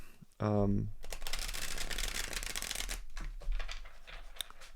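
A deck of tarot cards riffled in one quick, crisp shuffle burst close by, followed by soft handling and rustling while a person talks.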